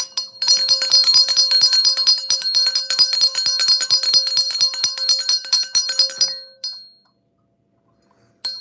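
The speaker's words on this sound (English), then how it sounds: "where's my bell?" A small handheld bell is rung rapidly and continuously for about six seconds with bright metallic clinks, then stops, leaving a brief fading ring and silence.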